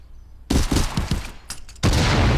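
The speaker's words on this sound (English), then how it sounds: "we hear the gunfire off in the distance" Bursts of rapid gunfire in the Contractors VR shooter game, a clattering run of shots followed by a pause and another sustained volley, fairly loud with no talk.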